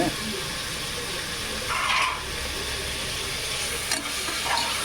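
Chopped tomatoes sauté in an oily pan with a steady soft sizzle, broken by a couple of short scrapes from a stirring spoon, moderately quiet and close.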